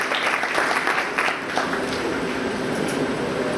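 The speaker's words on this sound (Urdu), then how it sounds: "نیچے والے ان کے لیے تالیاں بجائیں" A church congregation claps steadily through a Palm Sunday service, giving a dense, continuous wash of many hands at an even level with no clear pauses.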